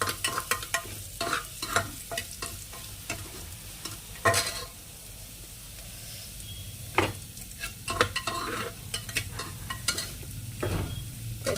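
Moong dal being lightly fried with potatoes in a pan, with steady sizzling broken by repeated stirring scrapes and occasional louder clatter of the spoon against the vessel, close and continuous.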